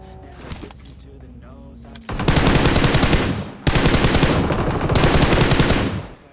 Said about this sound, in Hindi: सामने की साइड जो फायर हो रहा है